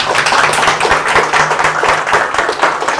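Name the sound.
audience applause after a lecture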